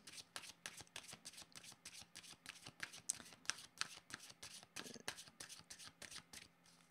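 Tarot cards are shuffled by hand in rapid, steady riffling bursts, close and crisp, continuing without pause and with no voice.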